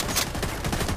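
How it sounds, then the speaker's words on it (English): Rapid gunfire in The Division 2 as an enemy fires a shotgun, with repeated sharp blasts in quick succession and no pause, loud and continuous throughout. "Oh, look at this guy. He's using a shotgun."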